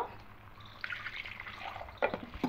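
Water trickles and drips into a mixer jar holding a ground paste of nuts and poppy seeds, a soft close pour with a couple of brighter splashes near the end and no voices.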